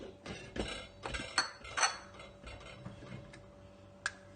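A gas stove igniter clicks as the flame is lit, giving several sharp close ticks in quick succession followed by a couple of fainter clicks.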